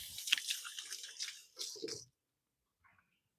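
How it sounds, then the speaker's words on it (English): Hands rinsed briefly under a running kitchen tap, a short burst of splashing water lasting about two seconds, then silence with a faint trailing drip. "Give my hands a quick rinse."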